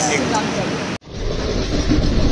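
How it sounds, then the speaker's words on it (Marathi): A passing Mumbai suburban local train roars steadily on the tracks, a dense rumbling rush that drops out briefly and resumes, with faint voices underneath. "ही आहे आपल्या सर्वांची लाईफलाईन, म्हणजेच मुंबई लोकल."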